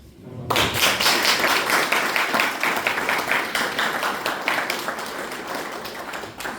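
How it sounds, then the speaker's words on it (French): Audience applause at a ceremony handing over the keys of the MUK foundation, a dense burst of many hands clapping that starts abruptly and holds steady and loud throughout. "Merci d'applaudir"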